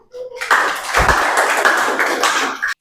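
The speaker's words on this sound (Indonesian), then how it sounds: "Tepuk tangan." Short burst of classroom clapping in an Islamic religious education lesson, a dense patter of hands starting abruptly and stopping just as suddenly, fairly close and loud, with a few voices mixed in.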